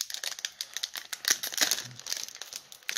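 A Pokemon booster pack's foil wrapper is torn open by hand, close-up crinkling and ripping in rapid irregular bursts, crisp and fairly loud with no talking.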